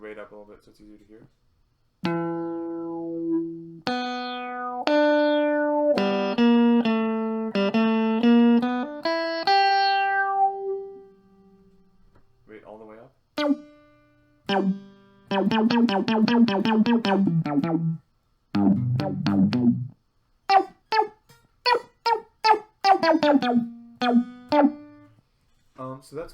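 Microsynth synthesizer with its rate and filter resonance turned up plays a run of bright, buzzy stepped notes and rapid retriggered sweeps, loud and close, with short pauses between phrases.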